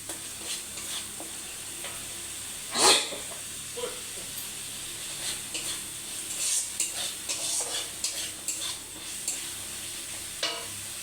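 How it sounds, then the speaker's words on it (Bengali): Poppy seeds, melon seeds and cashews fry for a spice mix in a pan, a steady close sizzle with scraping stirs and one sharp clatter early on, with no voices. "আমি পোস্ত মগজ দানা আর কাজু বাদাম আর সব দিয়ে মশলাটা ভাজি"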